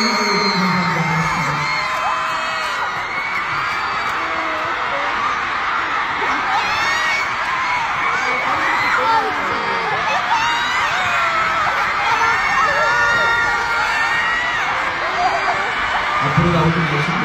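A large crowd at an awards show ends the night with sustained loud cheering, whooping and applause that runs steadily throughout, with voices calling out over the roar.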